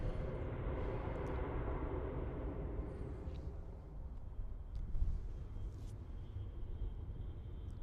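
A Ryanair Boeing 737-800 lining up on runway 23 left at Manchester Airport, a loud continuous jet engine roar with steady broadband rumble throughout.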